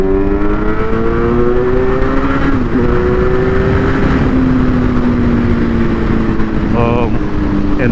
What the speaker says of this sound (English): So let's do a roll on in fourth.